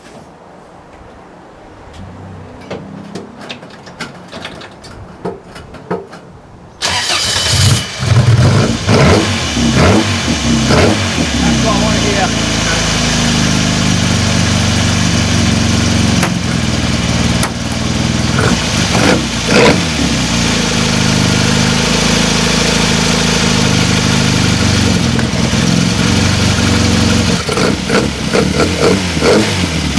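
An MGB race car engine turns over and catches after a quiet start, then settles into a loud, steady idle punctuated by sharp throttle blips and revs close by, with a brief comment from a voice.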